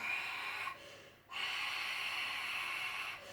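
Heavy, hissing breaths pushed out through the mouth during an advanced exercise routine, close and loud, one long exhale broken by a short pause before another sustained breath.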